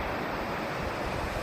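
On a cold, windy day at the beach, wind and surf roar together as a dense, unbroken rush, loud and close with no one speaking.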